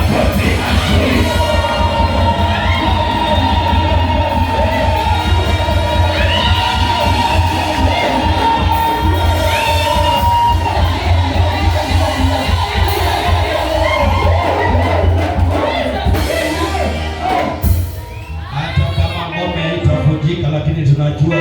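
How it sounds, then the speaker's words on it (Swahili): Church congregation at a revival service shouting, cheering and clapping together, a loud sustained crowd roar with dense clapping throughout, continuing without letup. "Unaweza pigia Bwana shangwe na makofi mazuri."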